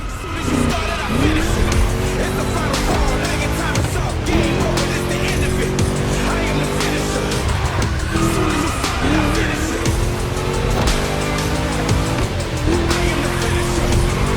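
Ford Mustang V8 racing in The Crew Motorfest, a loud, continuous engine roar with rising gear-change sweeps and tire squeal, backed by a steady rock music bed throughout.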